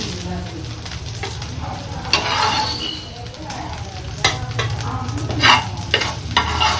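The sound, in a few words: food frying in a pan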